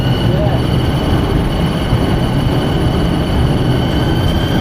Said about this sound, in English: This is a Circle Line train via Embankment and Tower Hill.